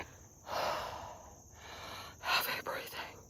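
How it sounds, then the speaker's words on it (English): Heavy, breathy exhales and inhales puff close to the mic, a few loud breaths in a row with short pauses, fairly quiet overall. "Heavy breathing."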